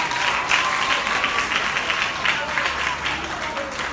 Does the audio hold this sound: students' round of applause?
yes